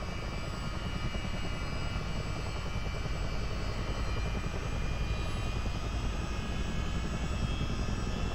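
A Chinook twin-rotor helicopter in Microsoft Flight Simulator 2024 powers up for takeoff on an Independence-class warship, its rotors and turbines a continuous heavy drone with fast blade thumping, loud and steady throughout with no voices.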